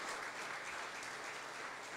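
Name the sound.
church congregation applause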